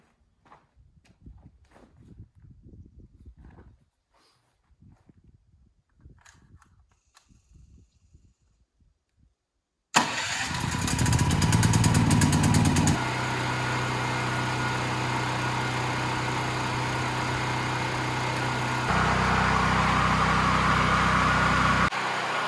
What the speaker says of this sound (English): we've got to fire up the generator. That's the only electricity we have to run the pump well